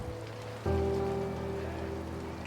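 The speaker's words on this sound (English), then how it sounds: "The light drizzle has turned into a full-on downpour." Steady heavy rain in a downpour hisses on a surface, and a sustained musical tone comes in partway through.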